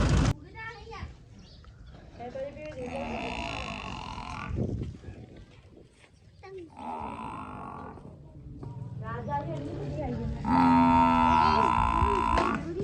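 Buffaloes on a farm at evening milking time give deep moos and lowing calls, fairly close, while adults and children talk and play nearby throughout.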